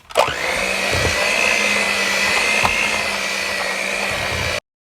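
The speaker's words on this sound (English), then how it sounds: "now that my butter and sugar has been blended together" An electric mixer beats butter and sugar together for a pound cake, a loud steady motor whine with a brief catch near the start, running without pause until it cuts off abruptly.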